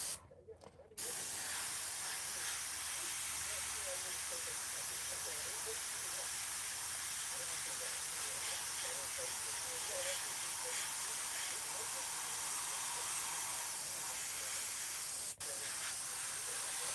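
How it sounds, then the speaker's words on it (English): A spray can hisses in one long, steady, close burst lasting most of the stretch, used for painting small clouds, with a brief pause near the start. "Spray some little clouds."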